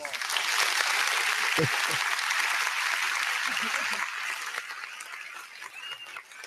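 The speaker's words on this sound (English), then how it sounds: "You guys give him a warm welcome applause" A comedy club audience breaks into sustained, dense applause and scattered cheers welcoming a performer to the stage, loud at first and gradually thinning out over several seconds.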